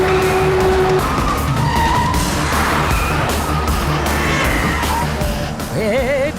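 A car skids through traffic in an action film scene, tires squealing loudly over dense engine roar and rushing road noise, with a siren-like wail rising near the end.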